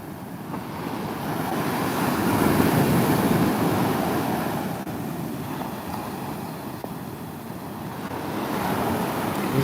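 Sea surf rolls in during rainy weather, a continuous broad wash of breaking waves that swells and fades in slow surges, with wind buffeting the microphone and no voices.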